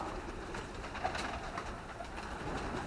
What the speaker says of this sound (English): Pigeons are real, man. Pigeons. Look at them.